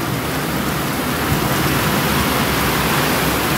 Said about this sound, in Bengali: কি জোরে বৃষ্টি নামছে দেখো